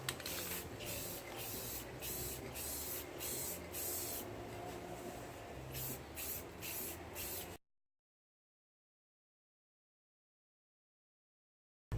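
Close, loud hiss of an aerosol can spraying a sealer coat onto a plastic pull cart, in repeated short bursts with brief gaps, stopping abruptly into silence.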